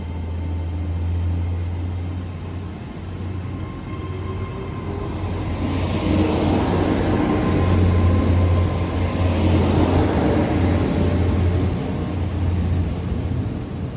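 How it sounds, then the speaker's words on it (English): A Great Western Railway train from Penzance to London Paddington departs Par station in Cornwall, a steady loud engine rumble with a broad rushing swell building and fading as it pulls away, no voices. "departing out now is the 11:20 Great Western Railway service from Penzance to London Paddington"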